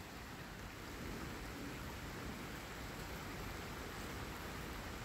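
Steady rain falling in southeastern Pennsylvania, a dense continuous hiss of drops on surfaces with no breaks, even and moderately loud throughout with no voices.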